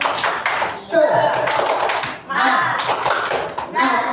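Schoolchildren in an Indonesian classroom doing a rhythmic spirit clap (tepuk semangat), loud close claps and taps in patterned bursts with children's voices chanting along.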